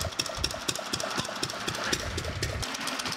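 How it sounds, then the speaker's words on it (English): A Fairbanks-Morse Model Z hit and miss engine runs unloaded nearby, chugging with irregular firing beats and mechanical clatter, steady and fairly loud with no talking. "it'll actually quit firing, the RPMs will drop down, and then it'll kick back in and kind of get back up to speed"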